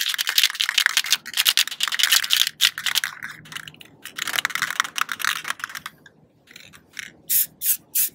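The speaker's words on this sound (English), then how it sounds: "Spray it off a couple times to make sure it's not clogged, and I go right to town." A nearly empty rattle can of spray paint hisses in repeated bursts while coating car wheels, with short bright sprays broken by brief pauses and a few separate blasts near the end, no talking.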